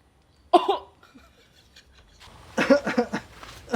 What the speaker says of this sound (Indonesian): batuk kok